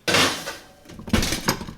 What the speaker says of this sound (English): Put 2 pans into the oven.